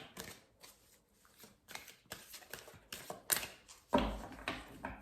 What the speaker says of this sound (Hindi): तो मैं फर्स्ट 3 कार्ड्स ले रही हूँ आप लोगों के लिए।